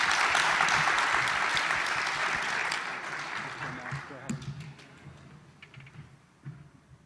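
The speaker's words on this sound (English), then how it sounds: "Can you give our panelists a round of applause" At a startup demo day in Vietnam, an audience claps for panelists, a loud dense round of applause that thins out into scattered claps. Murmuring voices and stray noises carry on underneath as it dies away.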